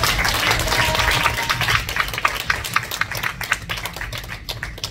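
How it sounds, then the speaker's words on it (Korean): A church congregation at a Korean revival meeting claps together for a pastor, a steady burst of hand clapping that thins into scattered, uneven claps toward the end, with no talking over it. "우리 목사님 일어나시면 크게 한번 박수하겠습니다."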